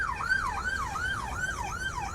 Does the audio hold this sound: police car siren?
yes